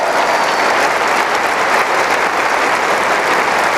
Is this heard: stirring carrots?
no